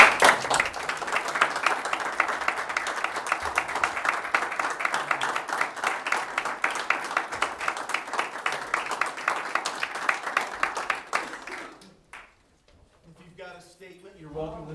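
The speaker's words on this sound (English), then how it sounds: "let's give you a big round of applause" Audience at a city council meeting giving a round of applause, a sustained even clapping for about twelve seconds that stops abruptly, followed by a short stretch of speech.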